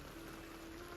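Heavy rain pours down in a sudden downpour over a market, a steady dense hiss of falling water that stays even and close for the whole second, with no voices.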